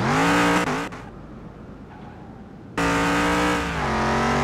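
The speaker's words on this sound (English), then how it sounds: "So got our car here ready to go. We're gonna see our top speed right now" Plymouth Road Runner muscle car in the game Car Mechanic Simulator 2021 revs hard and climbs through the gears, a loud, close engine roar that drops away at a shift, then surges back and keeps pulling.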